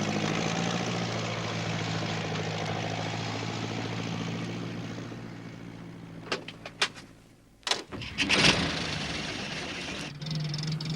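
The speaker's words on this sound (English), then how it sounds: "It was Alf Thompson on his tractor." Tractor engine chugging through fog, a steady droning rumble that fades somewhat, followed by a few clanks and a loud bump near the end before the low engine drone continues.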